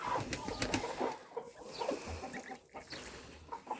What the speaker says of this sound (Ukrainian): Там гусята щось сюсюкають.